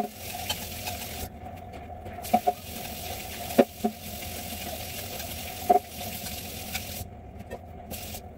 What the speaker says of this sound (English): We'll give it one more little stir